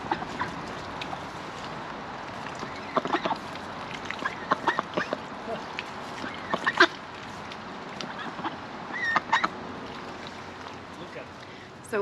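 Large ducks quack and honk at close to moderate distance, with scattered overlapping calls that come in short bursts over a steady outdoor background while people talk.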